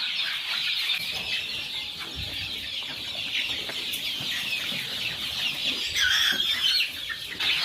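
Many one-month-old chickens cluck and chatter continuously in a dense flock inside a poultry shed, with occasional louder calls and some wing flapping, no voices.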